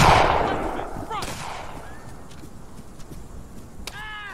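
Musket volleys and gunshots ring out in an Arma 3 Napoleonic-war battle, one loud crack at the start trailing into reverberant rumble, with softer distant shots and brief voice-like sounds after.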